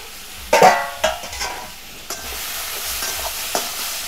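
Pointed gourd fries in a pan while a spatula scrapes and stirs it, giving several distinct scraping strokes over a low, steady sizzle up close.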